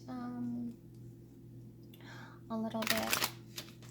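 Close riffling and flicking of playing cards being shuffled, a brief flurry of papery clicks following some soft talking.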